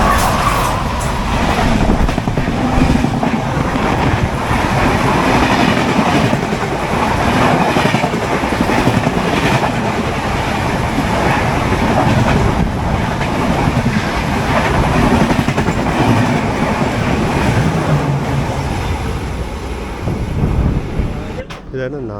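Coimbatore–Hisar 22476 AC Express running on rails on a misty morning near Nandgaon Road station, a loud continuous rumble and rattle of wheels and carriages throughout, with some voices mixed in.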